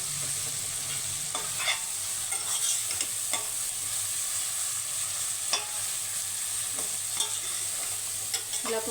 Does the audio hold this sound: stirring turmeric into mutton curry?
yes